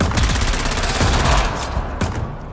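Rapid bursts of video game gunfire in a sandstorm survival shooter, dense and loud, with volleys running almost continuously through a tense firefight.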